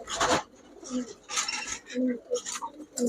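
Chuithal pigeons, including a red-eyed male, coo in a low repeated pattern, several soft calls spaced through a few seconds, with bursts of louder noise and someone talking between them.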